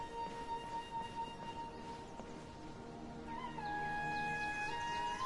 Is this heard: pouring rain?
no